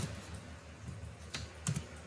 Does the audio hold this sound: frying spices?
no